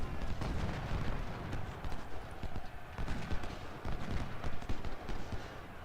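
A Civil War battle in the strategy game Ultimate General: Civil War, during the Raid on Manassas, fills the scene with a dense, continuous rumble of artillery booms and crackling gunfire, rolling unevenly at a moderate distance.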